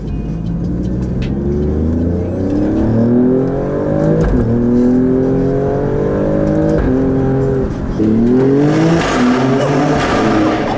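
An Alfa Romeo Stelvio Quadrifoglio engine revs hard and accelerates through rising gear pulls, loud and close, with brief dips between shifts and no talking.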